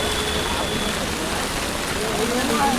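Heavy monsoon rain pours down on the way to Panvel, a dense, loud, unbroken roar filling the whole moment, with faint voices beneath.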